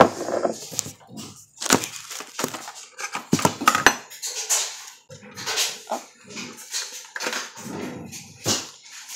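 Metal spoons clatter and clink in uneven bursts as they are gathered up, with sharp knocks and rattles separated by short pauses, close and fairly loud.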